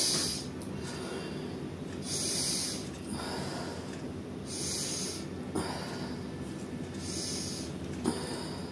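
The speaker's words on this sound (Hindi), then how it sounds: "थोड़ा जोर से सांस लीजिए" Slow, deep breaths in a quiet room, each long airy inhale and exhale repeating about every one and a half seconds, close and soft.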